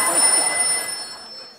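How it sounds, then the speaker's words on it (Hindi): A telephone rings with a bright electronic tone, one short burst that fades out quickly, loud and close, with a faint voice beneath it. "भारती का फोन"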